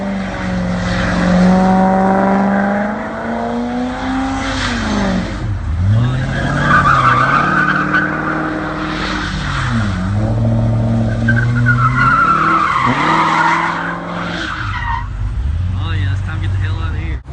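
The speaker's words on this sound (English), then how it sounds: "Let's heat up these tires and go do some donuts." A Corvette ZL500 with an LS2-based V8 does donuts, its engine roaring and tires squealing and skidding loudly and continuously. The pitch rises and dips as the car circles.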